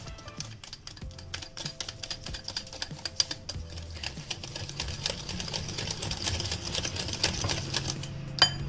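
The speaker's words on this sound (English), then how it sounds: "Give it a nice whisk." A whisk beats an egg and oil mixture for a brownie cake in a bowl, making a rapid, steady stream of light clicking taps that grows a little busier as it goes.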